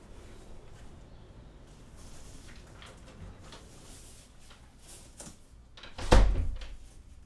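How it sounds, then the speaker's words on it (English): A door is pulled shut once with a firm, fairly loud thump near the end, after a stretch of quiet room tone with faint clicks and small movement sounds indoors. "let me close the door."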